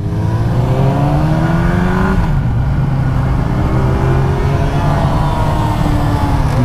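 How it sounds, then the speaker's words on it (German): A Ducati motorcycle engine at a large German motorcycle meet rattles and revs loudly and close by, a continuous throaty roar with rising and falling pitch. "Das Rasseln der Ducati."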